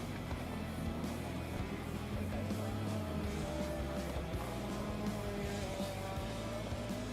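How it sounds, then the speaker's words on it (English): TCR touring race cars rumble through the pit lane and out onto the Rosario track in a TCR South America race, engines burbling at low speed with occasional revs and tyre chirps, fairly distant and steady. "We are having now the cars getting onto the track. They go through the pit lane to take a few laps of reconnaissance."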